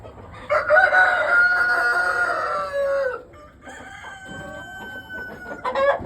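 A Blue Laced Red Wyandotte rooster crows loudly and close by in a long drawn call, then a second quieter crow follows, with hens clucking underneath on a farm.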